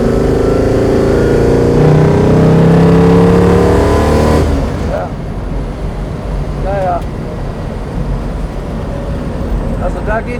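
A 1967 Bizzarrini 5300 GT accelerates hard on a straight, its engine roaring loud and close for several seconds before easing off, leaving a lower running rumble with brief tire or road noises.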